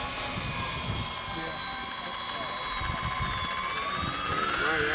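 A turbine-powered Ultra Viper RC jet lands, a steady high whine with a faint rising pitch throughout over low wind rumble, heard from a moderate distance.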